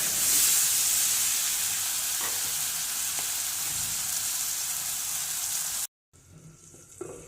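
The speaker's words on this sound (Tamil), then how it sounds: "நல்ல கிளறி கொடுத்து லோ ஃப்ளேமில் மூடி வச்சு வதங்க விடணும்" Green chillies sizzle softly and steadily in a covered pan on low flame, a continuous gentle frying hiss that cuts off abruptly near the end.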